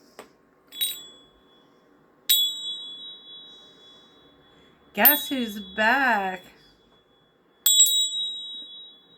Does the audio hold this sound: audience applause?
no